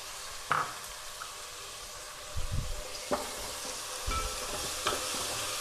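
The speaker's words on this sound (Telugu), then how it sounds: "ఇప్పుడు పొడవు చిన్నగా కట్ చేసి పెట్టుకున్న టమాటా ముక్కలు కూడా వేసేస్తున్నాం." Chopped tomato pieces tipped into a hot pan while cooking rasam, giving a soft, steady sizzle with a few brief stirring clinks and scrapes close by, no talking.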